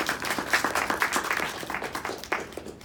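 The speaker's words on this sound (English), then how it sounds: "So maybe another round of applause for each one of you." Audience applause for table topics speakers at a Toastmasters meeting held at a bank, a steady wash of many hands clapping at moderate volume and continuing evenly throughout.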